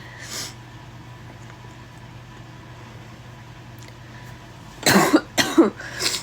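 A short cough at the start, then a steady low hum, then a quick cluster of two or three close, loud coughs near the end.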